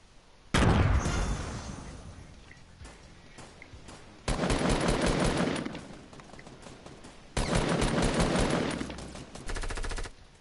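M4 rifle fire in an online multiplayer shooter: three long sustained bursts of rapid automatic shots, loud and close, separated by brief pauses and quieter stretches.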